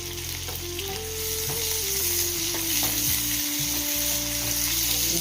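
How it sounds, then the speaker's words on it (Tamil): Sliced onions with salt fry in a pan for chana masala, a steady close sizzle with bubbling crackle and occasional stirring scrapes, alone and evenly loud throughout. "நல்லா கோல்டன் கலரில் வர வரைக்கும் நம்ம வதக்கிக்கலாம்"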